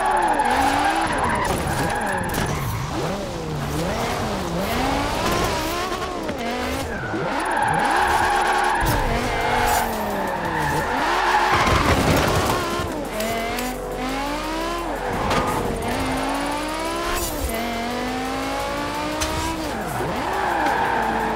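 A BMW i8 in Forza Horizon 4 drifts through a run of flags with the handbrake, its engine revving and falling in a loud, continuous stretch while tires squeal again and again through the slides.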